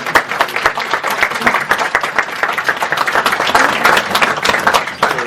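Congregation applauding at a Korean church ordination and retirement ceremony in New York, a dense, steady clapping from many hands that fills the room for several seconds, close and loud with no talk over it.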